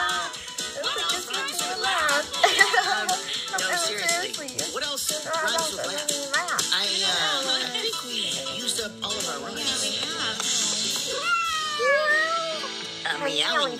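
Repeated cat meows, rising and falling, with high-pitched cries running almost continuously over a dozen seconds.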